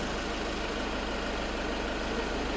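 A warmed-up 1.6-litre car engine with 310,000 km idles steadily, a constant low rumble and hum with no change in pace across the short stretch.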